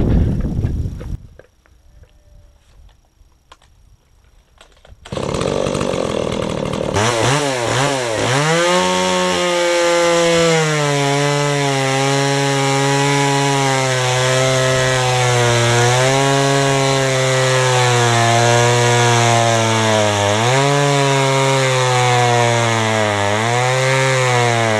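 A STIHL MS170 chainsaw fitted with an 043 ripping chain ground at 10 degrees and a 6-tooth sprocket, heard briefly at idle, then revving to full throttle and cutting wood continuously, loud and close, with slight pitch dips as it bogs.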